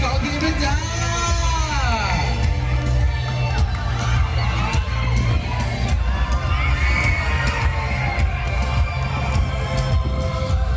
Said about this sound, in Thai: ขอเสียงปรบมือให้กับนักกีฬา